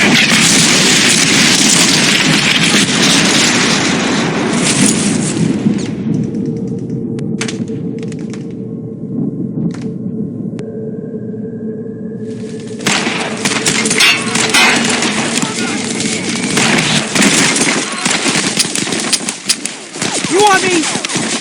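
Rapid machine-gun bursts and heavy booming explosions in the Brothers in Arms: Road to Hill 30 video game, loud and dense, dropping to a brief lull of scattered shots before the barrage resumes.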